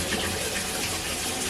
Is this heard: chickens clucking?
no